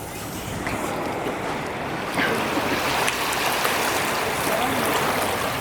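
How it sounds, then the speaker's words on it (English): Waves and surf wash steadily onto a warm Hawaiian beach in a constant broadband roar, with some wind noise and no clear speech. "we made it to the beach and it looks so amazing"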